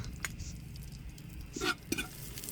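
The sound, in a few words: garlic sautéing in rendered chicken fat in a pot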